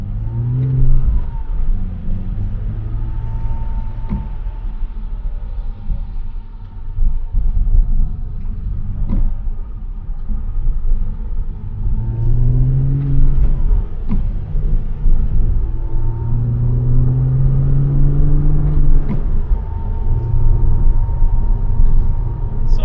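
A 2008 Porsche Cayman 987's mid-mounted engine hums steadily while driving, heard from the cabin, its pitch rising and falling as it accelerates and shifts gears, with no talking.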